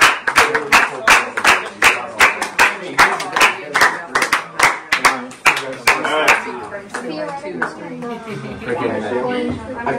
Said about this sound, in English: Okay, buddy, a round of applause.